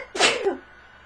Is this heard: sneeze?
yes